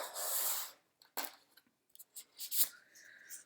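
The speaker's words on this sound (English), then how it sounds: "we'll go ahead and cut the deck with you here" Tarot cards being cut and handled: a burst of papery riffling, then scattered soft slaps, taps and shuffles of the deck, close and quiet, with no voices.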